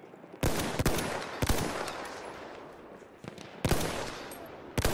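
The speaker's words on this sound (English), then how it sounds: "There's a machine gun." Machine gun fire in the video game Battlefield 1: loud, sharp bursts of automatic gunfire in quick clusters, near and punchy, separated by brief gaps where the echo fades, with no talking.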